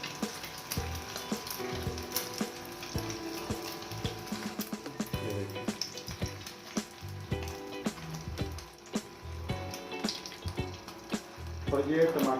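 Onions hit a hot pan for an egg shami burger, giving a steady close sizzle and frying hiss with intermittent knocks and clatter of utensils stirring, while someone talks over the cooking.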